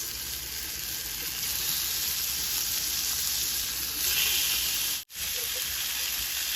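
Seasoned pork chops sear in a hot pan with a steady, loud sizzle that holds without a break, apart from one brief cut near the end.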